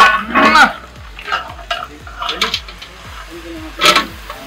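A spoon scrapes and clinks against a pot while goat head mango curry is stirred, repeated stirring strokes mixed with a soft sizzle and people talking nearby.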